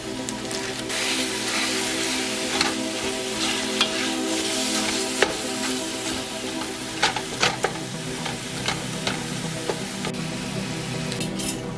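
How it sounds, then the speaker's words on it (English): Meat sizzles steadily in a reheated pot, a dense, even frying hiss with occasional sharper pops and crackles, close and moderately loud, with no one talking. "once the pot gets reheated, I go ahead and put the meat in it"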